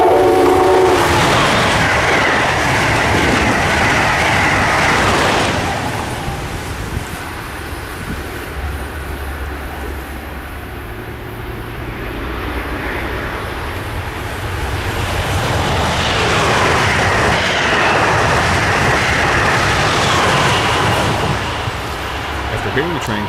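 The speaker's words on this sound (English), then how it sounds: "a meet between two Acela Express trains, 2168 and 2121, on their way to Boston, Massachusetts and Washington," Two Amtrak Acela Express trains meet and pass on the Northeast Corridor, one bound for Boston and one for Washington, D.C. A loud sustained roar of rushing cars and rail clatter, with a horn, dips briefly midway and then swells again.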